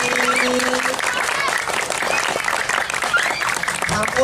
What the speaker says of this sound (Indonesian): Ayo tepuk tangan sarang kami.